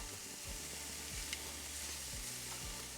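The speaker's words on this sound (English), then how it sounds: "A nice sizzle. Beautiful. Stick them right to the grill." Steady loud sizzling of hot dogs on a hot barbecue grill, a continuous crackling hiss with occasional soft thumps underneath.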